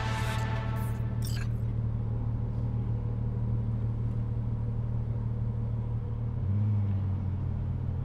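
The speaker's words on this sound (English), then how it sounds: "Car sounds nice" Car driving in Cyberpunk 2077, a steady low engine drone running throughout with a brief shift in pitch near the end, preceded by a short burst of brighter noise at the start.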